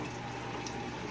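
Aquarium powerheads churn the water surface of a 55 gallon saltwater tank, a faint, continuous bubbling and splashing wash with no breaks.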